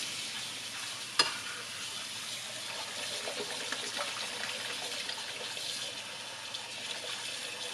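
Tap water pours steadily into a pot of potatoes, a continuous hissing rush with one sharp clank early on, holding at an even level throughout.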